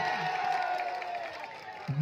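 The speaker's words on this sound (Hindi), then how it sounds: "दर्शकों एक बार अताबुर के लिए जोरदार तालियां" Spectators at a live volleyball match between Mohanpur and Maiharpur clap and cheer in a steady, dense crowd roar lasting the whole moment, with a few voices mixed in.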